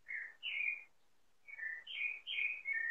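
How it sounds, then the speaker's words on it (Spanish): Small birds singing in the early morning: a few quiet, high chirping phrases in two bursts with a short pause between, heard alone with no voices. "cantan los pajaritos"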